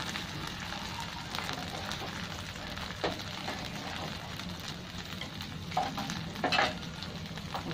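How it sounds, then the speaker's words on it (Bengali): Thin potato dosa batter ladled onto an oiled frying pan sizzles and fries with a soft, steady crackle, punctuated by a few brief louder pops and clinks of a utensil. "এবার 1 হাতা করে দিয়ে দিচ্ছি আলুর ধোসা।"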